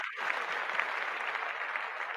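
Hand clapping from a small group during a winter 2026 anime awards countdown, a steady dense patter of claps that holds evenly for a couple of seconds with no one talking.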